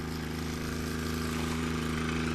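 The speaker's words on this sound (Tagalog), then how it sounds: "grass cutter." A small gasoline grass cutter engine runs steadily close by, a constant buzzing drone with a low throb and no talking.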